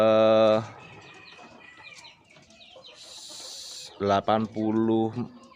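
Roosters cluck and crow loudly in a small 80 cm square wooden rooster pen, with raspy calls at the start and a run of strong calls near the end over a busy background of lower clucking and farmyard noise.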